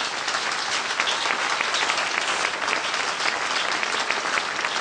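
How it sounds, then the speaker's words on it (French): An audience applauds an award recipient at a departmental merit prize ceremony. The clapping is dense, steady and sustained, filling the room with an even wash of hand claps and no pauses. "Il s'agit de Madame Marie-Claire Damour, qu'on peut applaudir très très fort."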